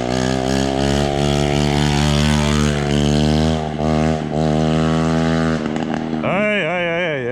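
A Honda CBR125 motorcycle engine runs without an exhaust, giving a loud, harsh, buzzing drone that holds steady and then revs up sharply in rising and falling bursts near the end.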